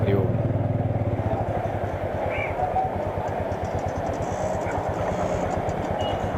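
A Royal Enfield Meteor 350 single-cylinder engine thumps rhythmically while riding, a steady low chugging beat with some rattling, close up, no clear talk.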